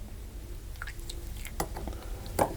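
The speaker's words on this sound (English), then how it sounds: "And I'm going to add more water and mix it" Almond paste for speculaas pies being worked with water by hand gives a few soft, wet squishes and squelches, faint and sporadic over a low background hum.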